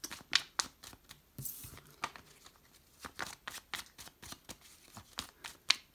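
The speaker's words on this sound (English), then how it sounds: "Once I've shuffled these back in, I will pull out the Witch's deck again" A deck of tarot cards is shuffled by hand in a quiet room, giving a steady run of crisp, close riffling slaps and flutters that repeat with a loose, uneven rhythm and no voice over them.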